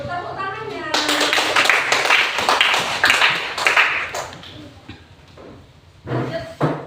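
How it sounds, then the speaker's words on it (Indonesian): Classroom applause from students after a group presentation, a burst of dense clapping that swells, fades, then returns briefly near the end, with voices around it. "Tepuk tangannya."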